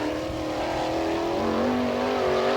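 A 305 sprint car engine roars at full throttle during qualifying laps at a dirt oval, a loud continuous rasping drone with rising pitch, close and steady with no talk.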